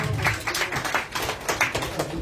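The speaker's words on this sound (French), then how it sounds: "Il faut applaudir encore M." A small group claps for M. Camara at a press conference of the Mouvement Patriotique pour la Justice, giving uneven, fairly close hand claps in loose bursts with no talk over them.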